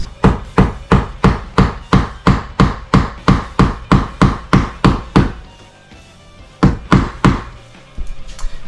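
Golf tees hammered into stripped door hinge screw holes: a steady run of sharp wooden knocks, about three per second for five seconds, then a pause and a few more blows, loud and close.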